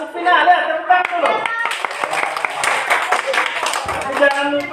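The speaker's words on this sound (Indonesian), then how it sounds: "tepuk tangan dulu" A class of students claps together, sharp overlapping hand claps under a teacher's voice, with talking before and after the burst.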